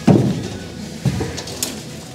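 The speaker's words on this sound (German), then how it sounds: "Ein Vogel hat sich ein Nest gebaut." Pigeon cooing from a nest inside a farm barn, two soft low coos about a second apart, fairly close and alone against quiet background.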